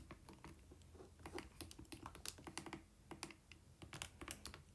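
Fingers tapping keys on a calculator, a quick irregular run of soft close clicks and taps with brief pauses, quiet and alone without talk.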